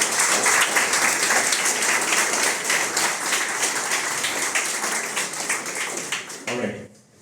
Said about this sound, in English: Can you clap for anyone?